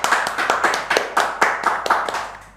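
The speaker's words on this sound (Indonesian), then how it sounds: "Berikan tepuk tangan dulu." A small audience claps along rhythmically after a poetry talk. The claps are crisp and evenly spaced, fairly close, and fade toward the end with no speech over them.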